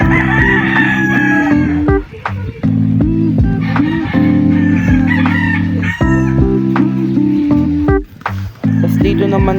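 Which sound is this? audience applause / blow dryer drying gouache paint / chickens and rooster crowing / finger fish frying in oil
chickens and rooster crowing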